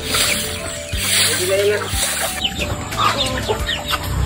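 Newly hatched chicks, eight of them, with adult chickens at a rural provincial home: a busy mix of clucking and high peeping calls runs continuously and close by, with voices in the background.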